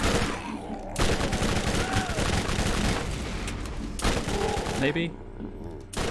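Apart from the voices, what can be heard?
SMG gunfire in Borderlands video game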